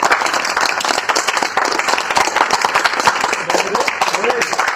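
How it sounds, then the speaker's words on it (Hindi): Crowd applause at a comedic political rally, a steady wash of many hands clapping that runs through the whole stretch, with voices mixed into the noise. "भैया तालियां।"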